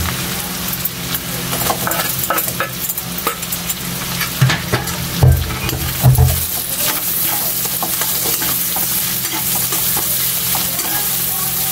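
Onions sizzle steadily in a hot pan for a seafood dish, with stirring scrapes and a few metallic clinks of a utensil against the pan, close and fairly loud, with no talking.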